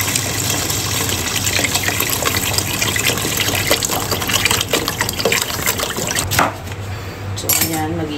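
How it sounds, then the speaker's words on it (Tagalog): Water pours steadily into a cooking pot for salmon sinigang, a loud continuous gushing splash close by with clinks of metal cookware, ending with a few clanks as the pouring stops. "So, lagyan na tayo ng water."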